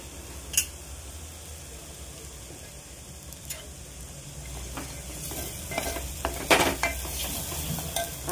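Masala for Maharashtrian egg curry fries in oil with a soft steady sizzle, punctuated by sharp spoon clinks and scrapes against the pan that grow busier toward the end; close and without any talking.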